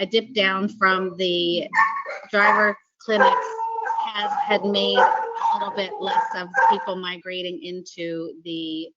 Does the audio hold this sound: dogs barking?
yes